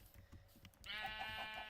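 A Minecraft sheep grazing on grass gives a single quavering bleat that follows soft clicking, clear and moderately close, with no talking.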